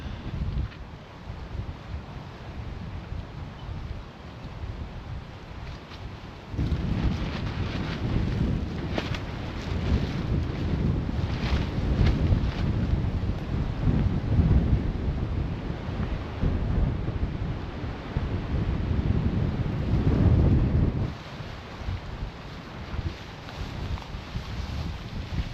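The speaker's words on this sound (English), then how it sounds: "That's where the wind's coming from, this side, so we can get that blocked off" Strong wind buffets a tarp and bivvy camp, a rough, roaring rush against the microphone that swells loudly midway and then eases, with no one talking.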